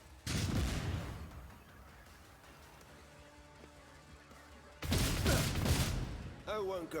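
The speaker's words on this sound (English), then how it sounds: "Yeah, stun grenade." A stun grenade detonates in the turn-based game Janus IV, giving two loud, broadband blasts a few seconds apart. A low rumble hangs between them, and a voice-like sound briefly follows near the end.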